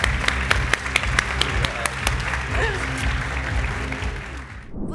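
An audience claps together in lively applause with crisp individual hand claps near the front, a faint voice briefly rising underneath before the clapping tapers off at the end.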